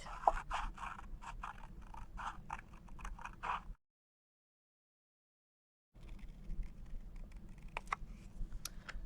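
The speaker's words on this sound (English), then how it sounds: "you're just going to cut along the black line of this circle template" Scissors snipping through a paper circle template in short repeated cuts, close and quiet, stopping for a couple of seconds of silence before cutting resumes.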